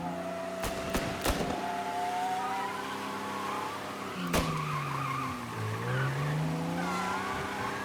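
Car from Mafia Definitive Edition driving in a game chase, engine droning steadily with tires squealing and skidding in sweeping pitch bends, plus a few sharp impacts, close and continuous with no talk.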